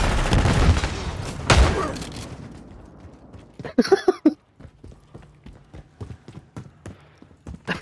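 Shotguns fire in a Favela search-and-destroy video game match: two loud booming blasts ring out, then a cluster of sharp shots and a string of lighter clicks and thumps follow, close and punchy.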